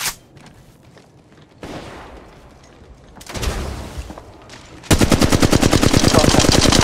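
Gunfire in the mobile game Apex Legends Mobile: quieter shots and movement at first, then a loud, rapid automatic burst of evenly spaced shots filling the last two seconds.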